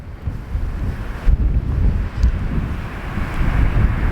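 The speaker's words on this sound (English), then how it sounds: "See the waves rolling in there?" Sea waves rolling onto the shore below the Bennan Head cliff tops as the tide comes in fast, a continuous rumbling wash under strong buffeting wind on the microphone, with no voices.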